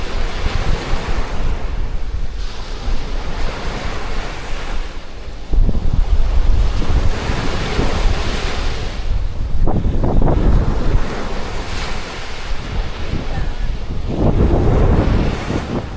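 Sea waves crash onto a beach while strong wind buffets the microphone, loud rolling surges breaking every few seconds under a constant roar of rushing air, with no voices.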